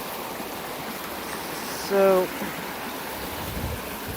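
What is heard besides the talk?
flooded creek flowing water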